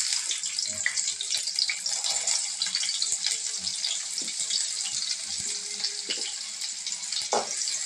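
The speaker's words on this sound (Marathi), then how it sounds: "तेल गरम झालेलं आहे तर त्याच्यात मी कांदा टाकते परतून घेण्यासाठी" Onion sautéing in hot oil, with a close, bright crackling sizzle that runs throughout and scattered small pops and clinks.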